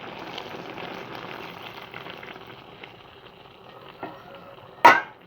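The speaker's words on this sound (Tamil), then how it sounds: "இது லேசாக ஒரு கொதி வந்தால் போதுங்க. ஒரு கொதி வந்துருச்சுங்க." Coconut milk with cluster beans for aviyal simmers in a pan, a soft steady bubbling hiss throughout, ending with a brief sharp clatter of a utensil against the pan.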